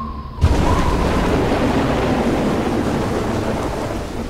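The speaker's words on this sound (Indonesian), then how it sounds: "Hujan turun dengan deras." Dense, steady roar of heavy rainfall that starts abruptly and fills the whole clip, with a low rumbling undertone like distant thunder.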